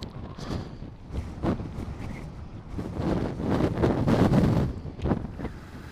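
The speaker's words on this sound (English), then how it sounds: "Quite windy though." Wind buffets loudly against the microphone in gusty rumbling bursts that swell and fade, with no speech.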